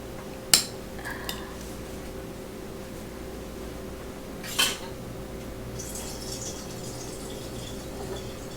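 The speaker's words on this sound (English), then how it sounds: "we're just going to pop them open, strain them, and then chop them up smaller" Canned artichoke quarters being opened and strained in a home kitchen: a sharp metallic clink near the start, a lighter tap, another clank midway, then faint liquid trickling and rustling against a steady background hum, with no talking.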